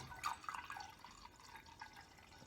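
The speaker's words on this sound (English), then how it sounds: "into this jug I am going to pour 200 millilitres of water" Water poured into a jug, 200 millilitres, a soft, faint trickling and dripping pour lasting a couple of seconds, close and quiet with no voices.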